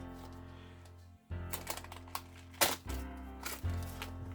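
Foil is peeled off a Christmas fruit cake in close, crinkly bursts, with sharp crackles and rustles after a quiet start and several louder crumples toward the end.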